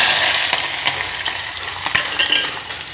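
Onions and chillies crackle in hot oil with a bright, dense sizzle. Sharp pops and stirring clicks break through it, close and fairly loud, with no voices.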